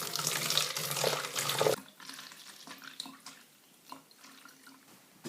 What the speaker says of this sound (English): And now the liquid is ready for bottling.